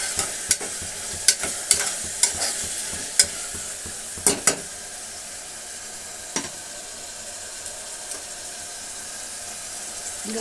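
Avarekalu tomato bath cooks in a pan with a soft constant sizzle, punctuated by sharp spatula clicks and taps against the pan, dense early and sparser later.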